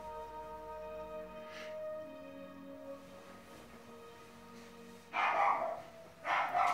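A dog in the video game Skyrim barks twice near the end, loud and close, after a stretch of quiet ambient game music.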